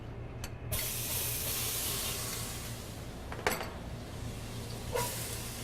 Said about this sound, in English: Add a little bit of oil. We're going to start with some garlic and onion.